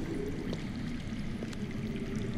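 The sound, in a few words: water flowing underground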